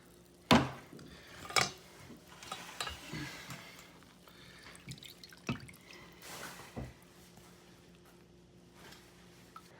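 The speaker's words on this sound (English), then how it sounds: "Strain it into the bowl." Fish-cooking juices strained into a bowl during a lakeside catch-and-clean session, giving scattered soft drips and light clinks of a bowl and utensils, quiet and close, with no talking.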